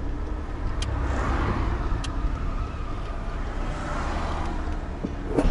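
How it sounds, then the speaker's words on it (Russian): A car drives away on a road in Kerch, Crimea, its engine a steady low rumble under broad traffic noise that holds level throughout, with a few faint clicks and no talking. "Машина отъезжает, и мы заезжаем."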